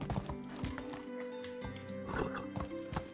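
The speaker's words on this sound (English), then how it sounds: "I don't normally ride the horse from this angle, but I thought it would be a better view." A horse in the Medieval Dynasty video game trots down a village main street, its hooves making a steady, rhythmic clip-clop with occasional whinnies. No voices are heard.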